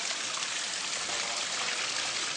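Small waterfall in an aquarium waterscape, a steady close trickling and splashing of flowing water, moderately loud and continuous, with no talk.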